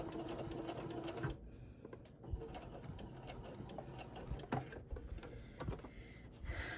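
A sewing machine stitches a fabric face mask, running as a steady close-up mechanical whir with a rapid ticking rhythm, broken by a few short pauses and handling clicks.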